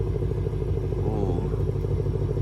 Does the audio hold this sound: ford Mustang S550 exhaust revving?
yes